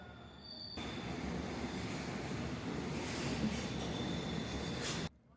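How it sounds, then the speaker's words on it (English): A London Underground District Line train passes through a tunnel near a curved station platform, a loud sustained roar with squealing wheels that cuts off abruptly at the end. "The curve of the station gives us an interesting perspective to see the trains running through the tunnels."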